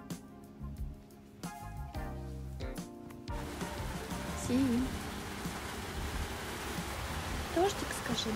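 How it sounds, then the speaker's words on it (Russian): Warm Florida rain patters on a roof as a steady, dense hiss, joined partway through and continuing alone after a voice talks briefly at the start. "Что это бьет по крыше? Это дождик."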